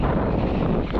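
Strong wind over a rice farm buffets the microphone in a continuous low roar, loud and close throughout the short moment.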